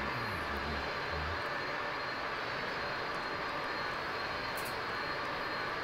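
Airplane engine drone from a flight simulator game, heard from outside the plane while cruising: a steady, fairly quiet broadband roar that holds evenly throughout, with no talk over it.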